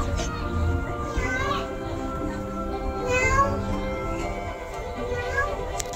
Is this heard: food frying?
no